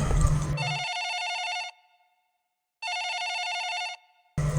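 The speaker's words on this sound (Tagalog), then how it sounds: "Biglang tumunog ang cellphone ko." A cellphone rings at night in a quiet room, two loud bursts of a bright electronic ringtone separated by a pause, after a brief low sound at the start.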